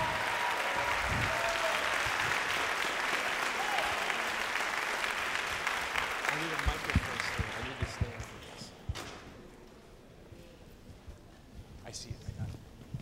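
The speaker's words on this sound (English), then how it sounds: "Round of applause, please." A school audience at Ferguson High School applauds a superintendent's arrival, broad dense clapping that starts loud, tapers off after several seconds into scattered claps, with voices and crowd noise mixed in.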